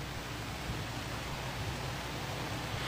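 Steady, unbroken rainfall in Tacloban City, Leyte, a dense even hiss of rain on surfaces with no gaps or voices.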